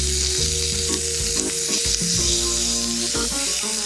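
Bacon slices sizzle and crackle steadily in a hot pan as their fat renders, loud and close, with a low tonal hum and brief clatters underneath.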